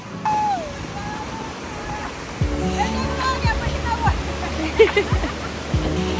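Small waves wash gently onto the shore of a calm beach in the Dominican Republic, a steady soft rush running the whole time beneath voices and other nearby sounds.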